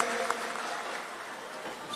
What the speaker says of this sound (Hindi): हम सभी जोरदार तालियों से स्वागत करें